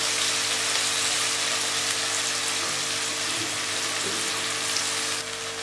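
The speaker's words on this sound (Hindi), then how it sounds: "अब मैं इनको बिल्कुल थोड़ा सा भून लूँगी" Finely chopped green chilies fry lightly in a pan, giving an even, continuous soft sizzle that holds steady throughout with no voices.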